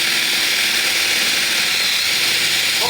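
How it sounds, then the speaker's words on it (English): A power drill bores a hole into a ceiling, giving a loud, continuous high-pitched whine that holds steady for the whole short burst, close to the listener. "The first thing we're going to do is we're gonna drill 4 holes in the corners of what we've measured."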